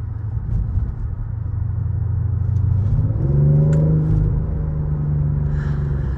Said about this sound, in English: The M760 Li is the most powerful engine available, V12, 6 liter with 610 horsepower on this model